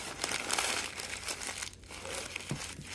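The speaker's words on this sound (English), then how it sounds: "I'm going to crumple that crap up to a ball." Old newspaper crumpled by hand into a tight ball, a soft, close crackling and crinkling of paper with brief pauses, heard alone.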